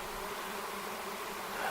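A swarm of honey bees hums at a bee box used as a swarm trap, a dense, steady buzz that carries close and continuous with no voices.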